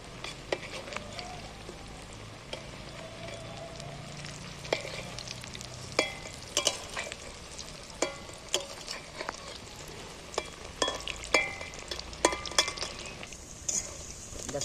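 Jackfruit pieces frying in oil, with a continuous bubbling sizzle broken by frequent sharp clicks and scrapes as pieces are turned and lifted, and no talking.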